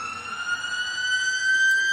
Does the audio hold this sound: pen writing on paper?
no